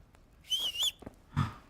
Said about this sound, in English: I did not mean to whistle.